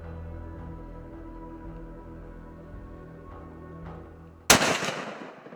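A single loud hunting rifle shot cracks out sharply near the end, following several seconds of quiet outdoor ambience, with its echo trailing off afterward.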